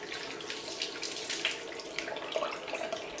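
Tap water runs steadily into a sink while rinsing off after a wet shave, a continuous close splashing hiss with no talking.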